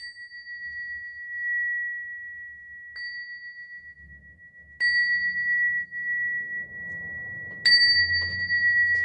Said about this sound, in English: I rescued this bell from this vintage store